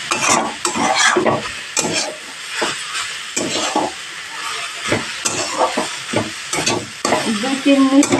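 Radish pieces stir-fried with three slit green chillies in a pan, with steady sizzling and frying, repeated scraping stirs cutting in every second or so, close and fairly loud with no talking.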